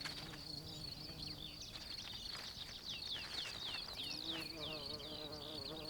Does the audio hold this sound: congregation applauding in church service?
no